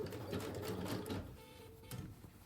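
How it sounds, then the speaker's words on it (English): Sewing machine stitching along quilt binding a quarter inch from the edge, a steady close mechanical whir in the first half that eases off, then quieter running with faint clicks. "we're going to start stitching once again 1/4 inch from the edge and start stitching the entire length"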